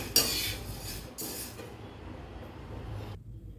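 Roasted toor dal slides and rattles from a pan onto a plate in two short, gritty pours, then the clatter trails off into quiet.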